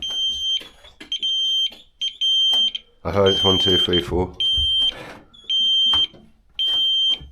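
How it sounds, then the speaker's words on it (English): A loud electronic buzzer beeps repeatedly in an abandoned, gutted hospital in Derbyshire, with regular pulsed tones recurring through the clip while people talk between and over the beeps. "Where's that buzzer gone, man?"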